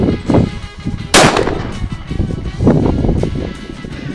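Shotgun blasts from a Beretta Ultralight fired at a moving clay target during shooting instruction outdoors; one sharp loud report stands out amid a busy, noisy background with further thumping impacts.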